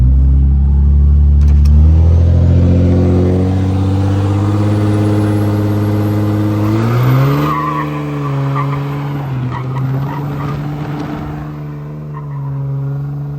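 A 3rd Gen Cummins pickup truck does a burnout, its diesel engine revving hard under a long, loud tire squeal that rises, wavers and fades as the tires spin, up close with no talking.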